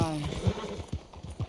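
Horse galloping in Red Dead Redemption 2, a steady rhythm of dull, thudding hoofbeats about every half second, under and between talk.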